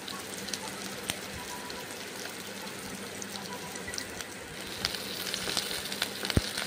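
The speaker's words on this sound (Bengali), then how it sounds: "পেঁয়াজটা ভালো করে ভেজে নিচ্ছি" Onions frying in mustard oil in a kadai give a steady, crackling sizzle throughout, with scattered sharp pops and spatters that grow a little livelier toward the end; no one speaks.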